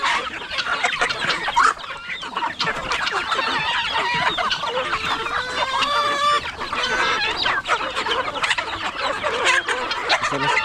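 Chickens cluck busily in a farmyard, a dense and close chorus of overlapping calls and squawks that continues without a break, with no talk.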